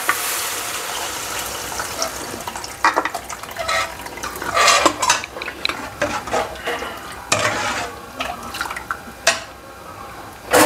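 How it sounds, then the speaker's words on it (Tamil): Mutton soup is poured into a cooking pot over mashed tomatoes, giving a steady watery splashing and dripping with scattered clinks of utensils against the pan, close and moderately loud, no voices. "இந்த சூப்பை ஊற்றிக்கலாம் ஃப்ரெண்ட்ஸ்."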